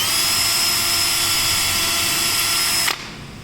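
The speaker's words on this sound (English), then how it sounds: "I'm going to drill into my piece of wood" A power drill whines steadily at high speed, boring through a piece of wood, then cuts off abruptly near the end.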